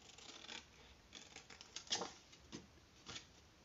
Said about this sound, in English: I'm going to use my big scissors again